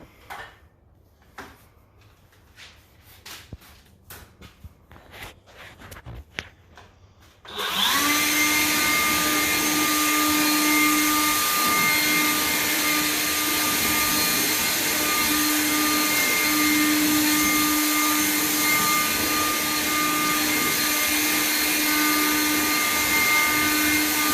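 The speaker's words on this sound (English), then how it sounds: "We'll blow this box out. Again, if you have a blower, it's like so much easier." Blower clears dust from a countertop mold box: after a few seconds of quiet knocks and handling noises, the machine starts abruptly into a loud, steady whine and roar that holds without a break.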